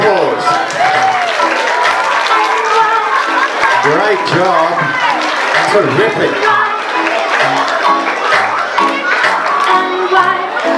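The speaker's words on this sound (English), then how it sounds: "As they come down, a huge round of applause" Clapping and crowd noise for schoolchildren walking in an Easter hat parade at a primary school, lively chatter and children's voices mixed with scattered applause, and an adult voice praising them over it.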